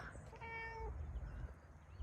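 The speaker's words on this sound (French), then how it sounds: "C'est le chat." A cat meows once outdoors, a short, fairly faint rising-falling call over steady background noise, with no talk during the sound.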